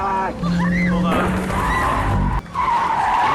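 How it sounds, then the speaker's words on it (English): Tires screech and squeal as cars skid during a wild highway chase, with tonal whines and rushing engine noise, a sharp break near the middle, and a voice speaking over part of the action. "A wild car chase ensued, with the vehicles crashing into each other."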